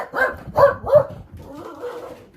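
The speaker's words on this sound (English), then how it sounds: "Excuse the dog barking." A dog barks nearby, a quick run of three loud barks followed by a softer, drawn-out whine or yip.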